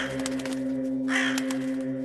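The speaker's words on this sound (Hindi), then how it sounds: "फिर वही कौवे की आवाज़ उनको आती है" A crow caws repeatedly, harsh and close, over a steady low hum and an eerie droning background in a horror podcast setting.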